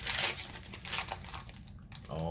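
Crinkling and tearing of a Magic: The Gathering M21 booster pack's foil wrapper, close and busy crumpling noise with a voice talking over it.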